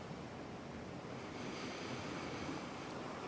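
Steady ocean surf washes continuously with a soft, broad roar and no distinct breaks, like waves rolling onto a shore, mixed with a faint wind-like hiss, with no voices.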